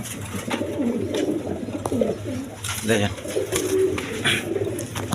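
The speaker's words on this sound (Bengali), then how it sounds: "এখানে এক পেয়ার কবুতর আছে দেখেন এটা রেড কালার" A pair of red Gorra pigeons coo softly and repeatedly nearby, their low rolling calls overlapping with someone talking through most of the moment.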